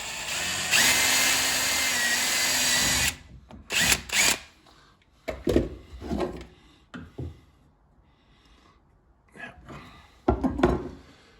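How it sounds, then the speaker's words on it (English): A power drill drives a screw into a sliding wardrobe door in a steady burst of about two seconds, followed by a series of close knocks and handling clatter with quiet gaps between them. "Put a screw in."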